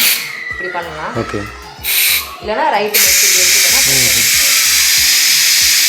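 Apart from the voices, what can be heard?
electric pressure cooker releasing steam pressure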